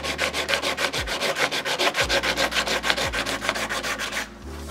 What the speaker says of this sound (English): So what we're doing here right now, it is sanding the parts of mold one and mold two.